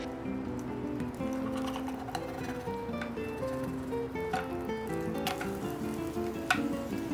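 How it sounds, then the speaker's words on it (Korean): Steady sizzling of one beaten egg frying as a thin omelette in a pan, a continuous crackle with scattered pops and faint clinks, no talking. "계란 한 개 풀어서 지단을 만들어줍니다."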